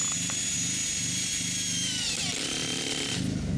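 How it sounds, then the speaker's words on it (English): Power drill grinding steadily into rock-filled concrete, a loud continuous whine with rough rumbling underneath, near and unbroken for the whole stretch with no talk. "drilling in it is quite hard"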